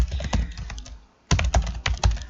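Rapid clicking keystrokes on a computer keyboard, close and crisp, in two bursts separated by a short pause, with no talking.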